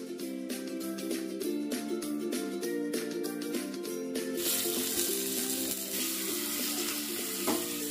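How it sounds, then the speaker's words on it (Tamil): Halved boiled eggs fry in a pan for a green egg kulambu; a steady hiss of sizzling oil swells over the second half beneath continuous music. "இந்த முட்டையை நம்ம 1 நிமிஷத்துக்கு நல்லா ஃப்ரை பண்ணி எடுத்துக்கலாம்"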